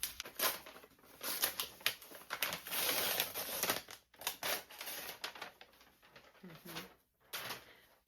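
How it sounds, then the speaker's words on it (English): A wrapped library book is unwrapped close by with bursts of crinkling, tearing paper, interrupted by short pauses and brief rustles. "But let's unwrap it and see what book it is."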